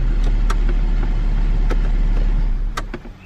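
A 2005-2011 Cadillac STS with a mass airflow sensor fault running in place, a steady low engine drone close by with a few faint clicks and taps over it, the hum dropping away near the end.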